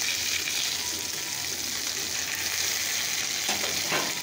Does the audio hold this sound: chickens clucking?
no